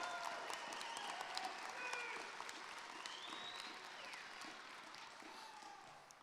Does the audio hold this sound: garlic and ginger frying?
no